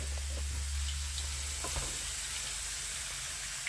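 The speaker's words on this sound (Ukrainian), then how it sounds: "Дивіться, вона шкварчить і починає відразу смажитися." Potatoes sizzle in a hot frying pan with a steady, even crackling hiss, close by, with an occasional faint scrape.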